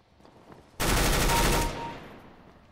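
An M249 machine gun in the video game CS:GO fires one sustained automatic burst of just under a second, loud and close, and the sound then fades into a lingering tail.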